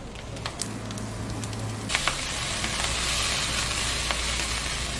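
Julienned potatoes stir-fry in oil, giving a steady close hiss of sizzling that swells and stays loud, broken by a few sharp pops and clicks.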